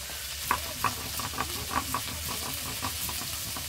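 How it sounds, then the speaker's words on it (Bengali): Tomatoes fry in hot oil in a home kitchen, a steady sizzle broken by several sharp stirring clatters at irregular intervals, close and fairly quiet with no talking. "আমি এবার টমেটোগুলো ভেজে নেবো"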